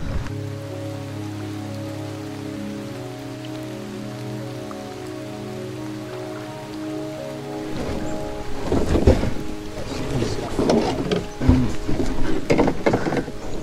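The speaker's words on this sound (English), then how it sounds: "It's starting to rain pretty bad out here." Heavy rain begins pouring on an island, rising from a low steady hum into a dense, loud wash of drops with a few stronger bursts.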